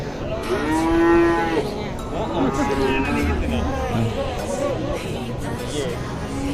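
Cattle at a busy market moo loudly and close by, with several long, drawn-out calls overlapping. The chatter of a crowd runs underneath throughout.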